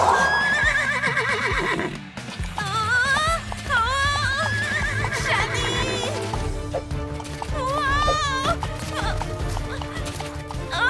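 Repeated horse neighs and whinnies in a Polly Pocket cartoon over a busy mix of hoofbeats, music and other sounds, loud and close throughout with little pause.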